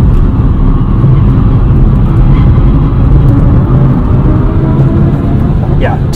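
Cabin of a 2023 BMW i4 eDrive40 electric car driving in sport mode on drying pavement, a constant loud low road and tire rumble with faint motor whine, under someone talking.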